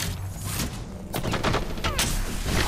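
Rapid bursts of video game gunfire from Apex Legends crackle close and loud, with dense overlapping shots in quick succession.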